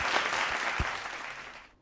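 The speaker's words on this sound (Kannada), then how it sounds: "ಅದಕ್ಕೆ ನಾನು ನಿಮಗೆ ಚಪ್ಪಾಳೆ ಕೊಡಬೇಕಮ್ಮ" A studio audience claps for a singer on a song show, a short burst of dense applause with a few sharper claps that fades out within two seconds.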